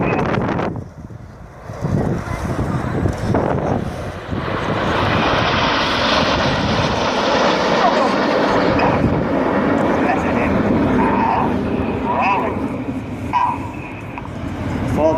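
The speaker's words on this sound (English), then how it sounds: "In from the left with some red and white smoke, this is Typhoon." A Eurofighter Typhoon jet trailing red and white smoke thunders past at an air display, a loud sustained engine roar that swells in and holds. It is heard at an air day at Yeovilton.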